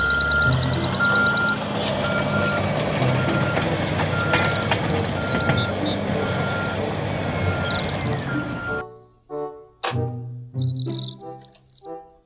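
A toy bulldozer rumbles with steady, repeating high reversing beeps, then switches to a brief tinkly electronic tune.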